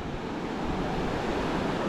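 Ocean surf at Selong beach on Lombok, a steady broadband wash of waves and wind rushing continuously at moderate volume, no voices.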